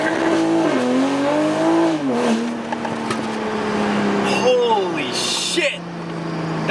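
A tuned Toyota Supra with a downpipe and 450+ hp makes a first-gear pull on a street, the engine note sweeping up and dropping through shifts while the tires chirp and squeal as they lose traction, with voices over it.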